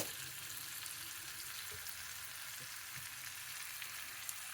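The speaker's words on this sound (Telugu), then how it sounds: "ఇది వేగాలి." Onion and green chillies fry in a pan with a steady, close hiss and sizzle, plus a few soft stirring knocks and no talking.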